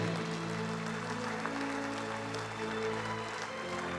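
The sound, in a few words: audience applause for student athletes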